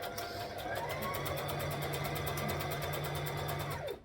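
A home sewing machine stitches a seam at the 5/8 mark with a back stitch: a steady, fast, even mechanical whir with rapid rhythmic ticking, running continuously and close, then stopping abruptly at the end.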